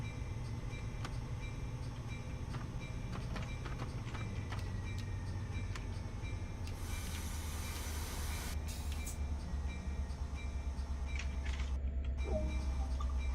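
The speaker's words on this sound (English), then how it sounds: "Go unload, you stupid locomotive" A locomotive in the Train Sim World game, a steady close rumble of engine and wheels running for the whole stretch, with a brief hissing burst partway through and no speech.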